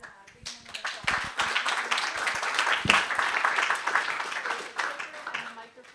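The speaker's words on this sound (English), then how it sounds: "let's give Luisa a big hand of applause" An audience in a lecture room gives a speaker a round of applause, dense steady clapping that swells and then tapers off over several seconds, with a few voices underneath.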